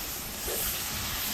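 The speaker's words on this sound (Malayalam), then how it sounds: "ഇതിലോട്ട് കുറച്ച് വെള്ളം ഒഴിച്ച് കൊടുക്കുന്നുണ്ട്" Water poured into a hot pan of Kerala-style chicken and winter melon curry makes a brief, steady hiss that swells slightly partway through, with no one speaking.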